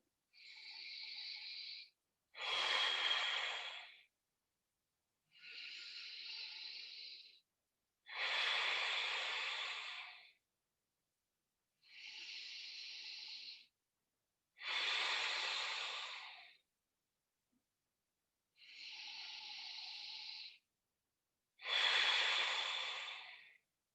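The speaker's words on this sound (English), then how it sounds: "Breathing into the belly, building this tapas in your body." Deep belly breathing during a morning yoga practice, with eight slow, even breaths alternating between softer inhales and stronger, rushing exhales, close and steady with silent pauses between them.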